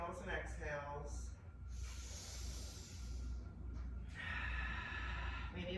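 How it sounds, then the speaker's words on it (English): Deep yoga breathing, slow audible inhales and long hissing exhales through the mouth, a few breaths close to the microphone over a low background hum. "Nice big inhales and exhales."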